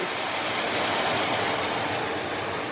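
Seasoned chicken bouillon liquid poured slowly into toasted fideo noodles in a pan, a continuous rushing, sizzling wash of sound, even and close, with no talking.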